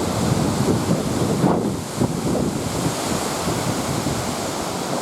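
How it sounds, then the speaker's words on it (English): Strong wind roars steadily on a windy day near Lake Michigan, a loud broadband rush with buffeting gusts against the microphone, trees tossing, with no voices. "Okay, it's nice and windy today."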